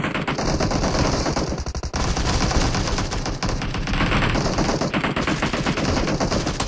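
Rapid, loud automatic gunfire in a PUBG Mobile team deathmatch, sustained bursts of shots rattling almost without pause, with a brief gap near the two-second mark.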